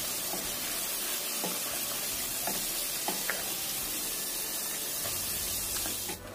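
Potato pieces deep-frying in hot oil, a loud steady sizzle and hiss with scattered pops and a brief clatter of stirring, no talking.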